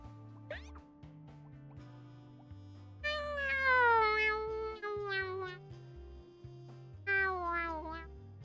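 A person's voice imitates a cat, giving two drawn-out meows, the first long and wavering, over steady background music while playing Pokémon Legends Z-A.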